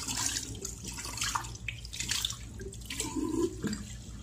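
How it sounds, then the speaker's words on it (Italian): A shaving brush with a very dense knot is rinsed under a running tap, washing soap out of it: steady splashing water with shifting gurgles and drips, close and alone. "fatemi dare una sciacquatina qui, veloce veloce, al pennello"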